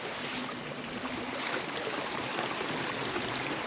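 A small river trickles down a valley toward Edale on Kinder Scout, a steady, soft wash of running water heard alone and close by.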